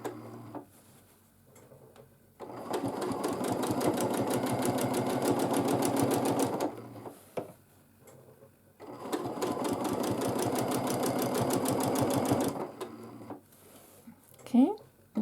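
Two long runs of rapid, rhythmic stitching from a sewing machine doing free motion quilting, close and even, separated by quiet pauses with faint handling noise.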